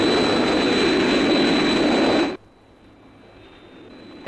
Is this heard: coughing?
no